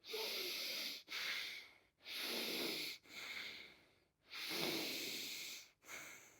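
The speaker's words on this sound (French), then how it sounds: "j'inspire avec le nez et je souffle avec la bouche jusqu'à temps que j'ai plus d'air dans les poumons" Forceful breaths drawn in through the nose and blown out through the mouth during hypoxic breath training, several long, loud, airy cycles separated by short pauses.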